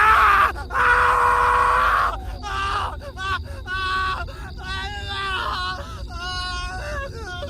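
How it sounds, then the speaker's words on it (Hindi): Dozens of people screaming from inside a forest at night near a highway roadside dhaba, a horror-story effect: dense layered wailing and groaning cries, loud at first, then overlapping voices rising and falling in waves. "तभी जंगल के अंदर से दर्जनों लोगों की चीखें सुनाई देने लगीं।"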